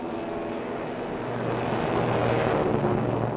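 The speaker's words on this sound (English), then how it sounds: "The next to go, nose wheel lifted and wing flaps down for maximum lift and the quickest possible takeoff." A B-25 bomber takes off from a carrier deck during a World War II raid, its engine roar a broad steady rush that swells louder midway and holds, with no voices.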